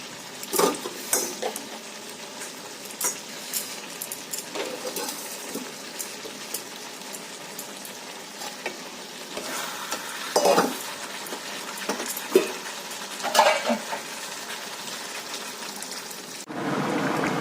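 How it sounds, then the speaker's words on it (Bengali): Hot water poured into a pan of well-browned fried meat in a Bengali home kitchen, with a steady sizzle under repeated scrapes and clinks of a metal spoon stirring against the pot, close and clear without talk. "এবার দিয়ে দেবো এর মধ্যে গরম জল"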